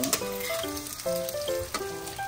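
Bicol Express being stirred as it sizzles and fries in a pan, a steady close crackle with tonal clinks of the spoon against the pan throughout.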